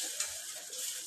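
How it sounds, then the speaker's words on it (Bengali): Luchi, puffed flatbreads, frying in hot oil, a soft steady bubbling sizzle heard up close and alone for about a second. "লুচি ভাজছি।"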